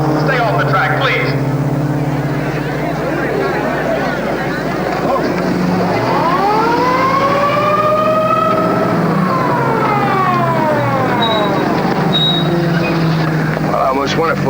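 A wailing siren rises and falls at a race track amid loud engine noise and crowd commotion from a 1954 motor-racing film, with voices over the din.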